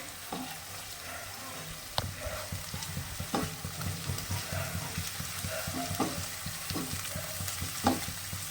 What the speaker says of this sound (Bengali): কাজু বাজারটা দিয়ে দিচ্ছি দিয়ে একটু ভালো করে কষিয়ে নিতে হবে